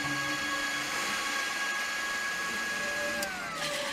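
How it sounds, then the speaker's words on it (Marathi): A mixer grinder runs at a steady high whine with a constant motor hum, close and loud, shifting pitch briefly near the end as the load changes. "चालू झालो मिक्सर"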